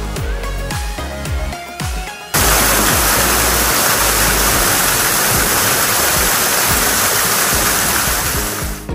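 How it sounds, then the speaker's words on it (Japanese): Loud, steady roar of an artificial waterfall pouring from the top of a building at a hotel garden in Atami, Japan, cutting in abruptly after a couple of seconds of quieter mixed sound, then pouring continuously and close. "建物の上から落ちる人工の滝かなり迫力あります音もすごいですよ"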